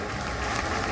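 A political audience applauds a UK Conservative leadership announcement with dense, continuous clapping, close and steady throughout the brief moment.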